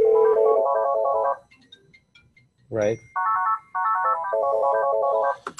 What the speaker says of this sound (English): it's going to route a call to my cell phone at the same time